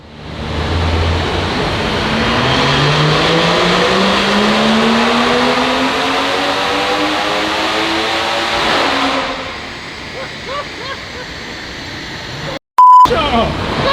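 A BMW M140i engine revs through a dyno power run, rising steadily in pitch and loudness for several seconds before backing off, followed by a short electronic beep.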